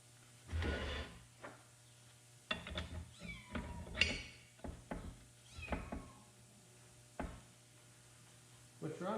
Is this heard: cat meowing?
yes